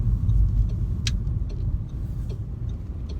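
A car engine hums steadily at low pitch during a driving lesson, a constant close rumble of road and motor with a brief hiss partway through.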